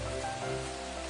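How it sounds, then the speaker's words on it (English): A drizzle of rain in an animated fable hisses softly and steadily, a brief, even wash of fine patter with no voices over it. "the skies thundered and it started to drizzle"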